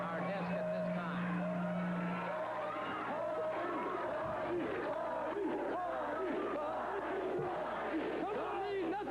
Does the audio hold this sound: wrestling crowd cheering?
yes